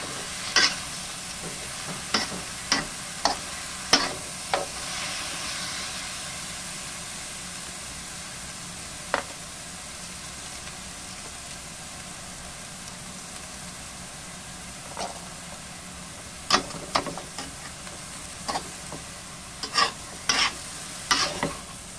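Mixed vegetables stir-fried in a pan, a steady sizzle beneath frequent sharp scrapes and clanks of a utensil, clustered at the start and again near the end.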